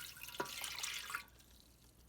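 Room-temperature water poured into a bread machine pan over yeast, a faint, close splashing trickle that runs about a second before stopping, no talking.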